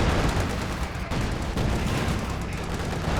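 Dense battlefield gunfire rattles without pause in a Company of Heroes 2 match, a loud, continuous mix of rapid rifle and machine-gun shots with heavier booms from anti-tank guns and tanks.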